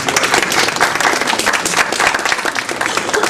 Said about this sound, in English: if we could give our board members a short round of applause.